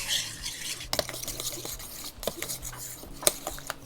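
A spoon briskly stirs about two cups of flour in a bowl for one-bowl bread, giving soft scraping and a few sharp clinks against the bowl's side, close and quiet.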